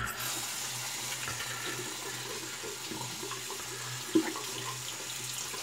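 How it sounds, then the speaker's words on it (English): Running tap water flows steadily into a sink as a shaving brush is rinsed under it, a continuous close splashing hiss with one brief knock near the end. "let's rinse the brush out"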